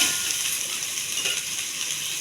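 Raw, plainly chopped ivy gourd pieces fry in a pan, making a loud, even sizzle that holds steady throughout with no voices.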